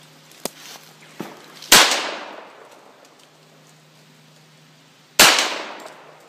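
Shots from a Hi-Point .45 pistol ring out outdoors, with a couple of sharp cracks early on and then two loud reports about three and a half seconds apart, each trailing off in a long echo.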